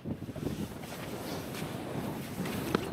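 Strong wind buffeting a microphone outdoors, a continuous rumbling roar with gusty swells and a few sharp pops, no voices.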